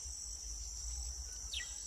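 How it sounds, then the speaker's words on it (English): Steady high-pitched insect chirring drones continuously, with a brief bird-like chirp near the end over a low rumble. "bug sounds"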